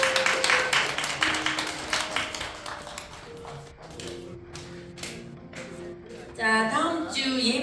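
Youth church service congregation applauding together, a dense stretch of broadband claps building loudly at the end over faint tonal background music.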